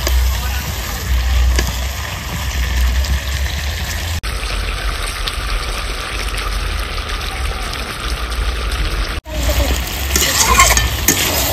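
Desi rooster curry sizzling and being stirred in a pan, a steady close frying hiss with scraping stir sounds running throughout, briefly cut twice, with no talking over it.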